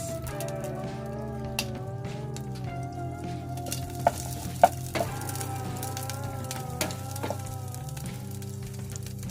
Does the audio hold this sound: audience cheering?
no